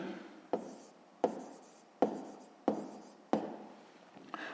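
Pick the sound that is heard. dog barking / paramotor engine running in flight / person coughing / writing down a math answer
writing down a math answer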